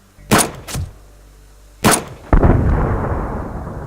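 Gunshots on a hunt in the survival game Subsistence: two sharp nearby reports in quick succession, a third a moment later, then a long rumbling boom that rolls on and fades.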